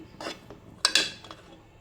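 A spoon scrapes and stirs thick rice payesh in a metal pot, giving a few sharp scraping strokes close by with quieter rubbing between, and no talking.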